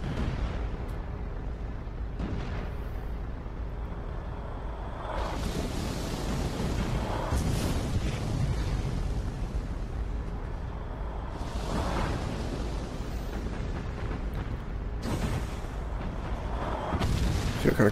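Enemy ship guns firing in the naval combat game Battlestations Pacific, a dense rumbling barrage with heavy booms and bursts surging around five, twelve and seventeen seconds over steady sea-like noise.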